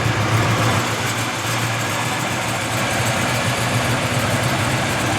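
A 1996 Chevrolet Impala SS with a 383 engine idles steadily up close, a deep, even rumble with a low hum running unbroken throughout and no talking.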